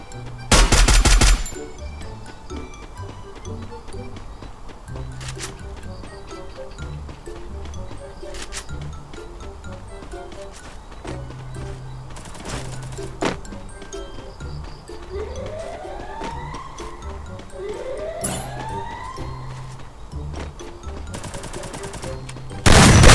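Gunfire from the Free Fire video game cracks out in scattered single shots and short bursts over steady in-game background noise. Players talk now and then between the shots.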